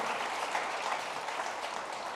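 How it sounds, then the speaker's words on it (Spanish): Church congregation applauding during a sermon on honoring one's father, a soft, steady patter of many hands clapping heard from a distance, fairly faint and without speech. "Démosle ese aplauso a nuestro Dios y Padre Celestial."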